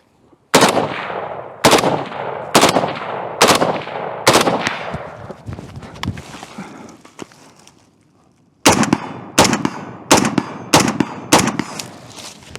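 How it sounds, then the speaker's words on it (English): Gunshots from an Orca firearm during accuracy testing, fired close and loud as spaced single reports with ringing decay, a pause of several seconds, then a quicker string of shots. "Let's put another 25 rounds downrange."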